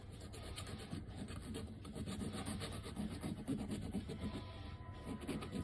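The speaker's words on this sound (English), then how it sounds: "Just kind of roll it on the thing as you're filing." A metal file works a sharp edge on a small aluminum light pole for slot car track lighting, making a quick, steady run of close rasping strokes that continues unbroken with no voice over it.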